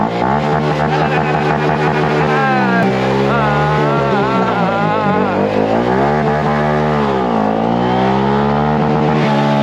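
A Honda Grom gas motorcycle engine runs loud and close, its pitch rising and falling as the throttle opens and closes while riding, with a voice briefly heard.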